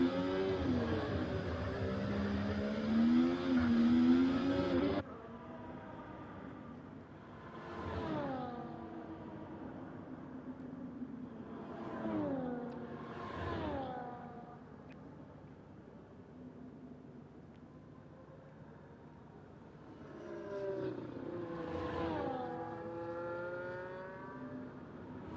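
Onboard engine of a Scarlet Ferrari Formula 1 car in an F1 esports race game at the Las Vegas Grand Prix whines through gear shifts, rising and falling in several revving sweeps, moderately loud and steady with no commentary over it.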